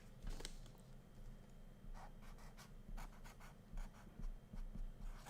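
Pen writing out a statics moment equation, quiet close scratchy strokes in short irregular bursts with brief pauses between them.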